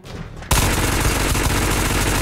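Sudden burst of loud, sustained automatic gunfire from the VR shooter Ghosts of Tabor, starting after a quieter half second and continuing as dense, rapid rattling shots close by.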